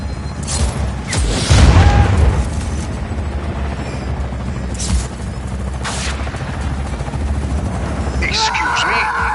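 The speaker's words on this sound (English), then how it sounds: "Enemies in a helicopter." In the video game Just Cause 4, an enemy helicopter's rotor thrums amid deep booming explosions and bursts of gunfire. The battle noise stays loud and dense throughout, with a voice speaking over it.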